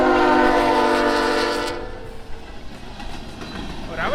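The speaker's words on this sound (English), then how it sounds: "Here comes the train again." A passing train sounds a loud sustained horn up close near a level crossing, then the rumble fades into rail clatter and ambient noise as it moves off; brief voices are faintly present.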